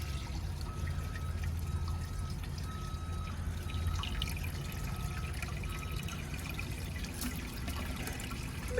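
Water pours and trickles steadily out of a 1972 Kohler Wellworth toilet as it is emptied, a faint continuous close flow with occasional drips.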